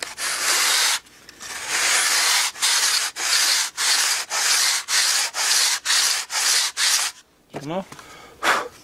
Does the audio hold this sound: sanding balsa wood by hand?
yes